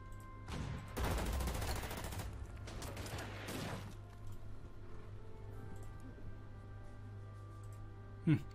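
Gunfire from an attack in the World War II strategy game Order of Battle: a dense burst of rapid shots and a second volley, then quieter mechanical rumble, fairly faint overall.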